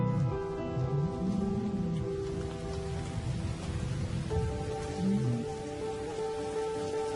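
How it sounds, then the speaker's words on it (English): Steady heavy rain from a thunderstorm hisses continuously, with a low, sustained tonal background beneath the downpour. "As the storm breaks,"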